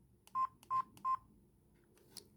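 Keypad beeps from a Daewoo DW-613 mobile phone (Maxon MX-6883/T688): three short, evenly spaced electronic tones, fairly quiet and close, followed by a faint click.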